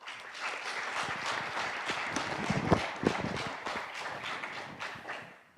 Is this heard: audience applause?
yes